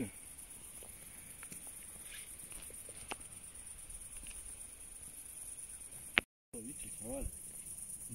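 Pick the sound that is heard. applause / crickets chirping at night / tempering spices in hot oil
crickets chirping at night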